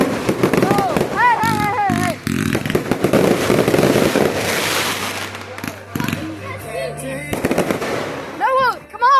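Flashbangs burst in loud, sharp cracks amid excited shouting and overlapping voices, with crackling reports scattered throughout and a low engine hum underneath.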